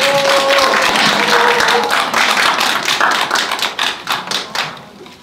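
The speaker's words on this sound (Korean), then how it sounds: "박수 부탁드립니다" Audience applause at a university Buddhist club case-study and consulting event, dense clapping from a crowd that thins into scattered individual claps toward the end, loud and close.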